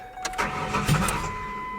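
A 2016 Ford F-150 pickup with a cut exhaust cranks and fires up, a brief starter whir leading into a loud, raw, rumbling engine close by.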